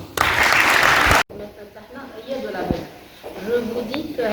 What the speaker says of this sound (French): je voudrais qu'on l'applaudisse encore